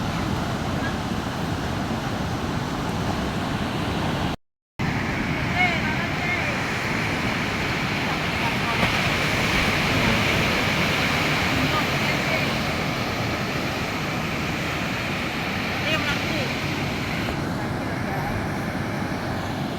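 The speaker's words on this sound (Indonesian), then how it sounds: "Pantai Pulau Merah." Waves rolling onto the shore at Pantai Pulau Merah, Red Island Beach, a steady wash of surf with people talking over it and a brief dropout near the start.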